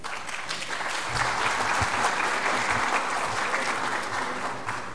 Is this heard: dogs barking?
no